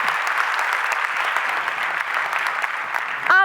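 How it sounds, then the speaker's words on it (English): Steady, dense audience applause fills a conference hall at an opening ceremony, welcoming a youth activist from Norway, sustained and even throughout with a brief voice at the very end. "please a round of applause for Marianne Knudsen"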